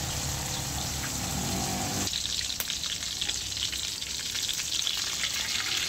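Steady close-up sizzling of salmon frying in hot oil, loud and continuous, with a crackling spatter that grows busier partway through.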